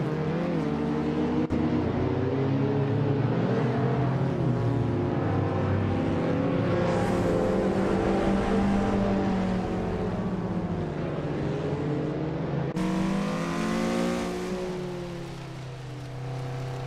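Race cars, including a 1998 Mitsubishi and a BMW Z3 M, roar continuously through a racing video game, their engine notes rising and falling loudly as they trade positions in a midfield pack.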